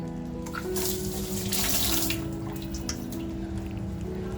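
Crabs being rinsed clean under a running kitchen tap, with a steady close stream of water splashing into a sink and occasional drips, continuous and fairly loud throughout with no voices.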